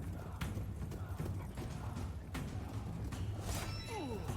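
Horse hooves clattering in the battle video game Total War: Three Kingdoms, a mounted unit moving amid dense combat noise, with irregular clops and thuds and scattered clashes over a steady low battlefield rumble.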